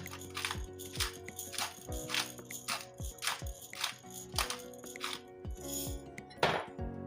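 Spoon clinking against a bowl while ground chili flakes and black pepper are stirred into a sauce for spinach rose börek, a steady series of close, bright metallic taps and scrapes with a soft background hum.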